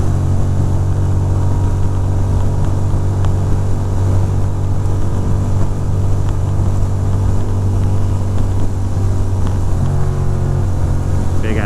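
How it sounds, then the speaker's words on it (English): Big trucks roar past on a wet, rainy highway during a cold winter ride from New Jersey to New York, a loud, continuous engine and road rumble that swells as they pass. "Big ass trucks."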